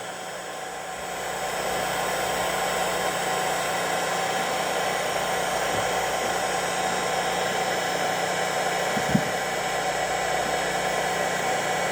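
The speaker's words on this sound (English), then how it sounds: "this I'm having to hold back over the heat gun" Heat gun blowing hot air over a fishing lure coated in powder paint, a steady loud whooshing roar with a constant hum that holds unbroken throughout, close up, with a single faint knock near the end.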